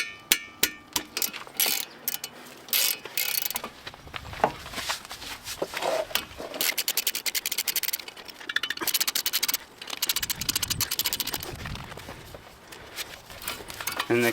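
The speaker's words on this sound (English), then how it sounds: "take off the 14mm bolts for the caliper" Wrench work removing the 14mm caliper bolts on a 2010 Ford Fusion front brake, with rapid ratcheting clicks and metallic clanks in irregular bursts, close and moderately loud.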